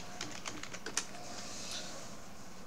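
Keys tapped on a computer keyboard while a name is entered, a quick run of soft clicks in the first second, faint against steady room hiss, with no talking.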